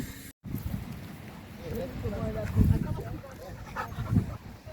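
Close, rapid panting from a dog, breathy and rhythmic, with soft background noise and a brief cut near the start.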